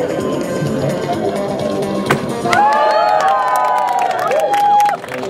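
A crowd cheers and shouts at a cheering stage during a carnival parade, Mützingenta 2012, loud and close, with a sharp hit and then a bright whistle-like tone riding over the noise for a couple of seconds.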